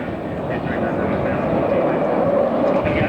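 An F-111 jet flies at the 1997 Avalon airshow in Australia, making a steady, loud broadband roar for about three seconds while a voice talks over it.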